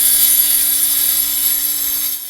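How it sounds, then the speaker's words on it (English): An angle grinder cuts steadily through a hard cement mortar joint on heritage brickwork, a loud continuous high whine close by with no talk. "it may require the use of a grinder to cut through the centre of the joint and loosen the mortar"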